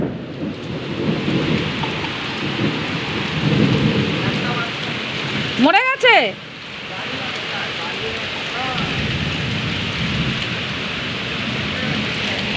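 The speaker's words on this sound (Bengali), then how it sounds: "এ বাবা বাজ পড়ছে" Thunder and heavy rain during a storm, with a steady loud downpour hissing on surfaces and a sharp nearby thunder crack midway that rumbles briefly; a voice speaks a few words.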